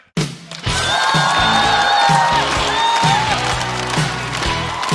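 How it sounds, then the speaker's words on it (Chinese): A stand-up comedy audience applauds and cheers as a comedian comes onstage. Dense, sustained clapping and shouts rise suddenly and stay loud, with upbeat music playing underneath. "让我们掌声欢迎小雪"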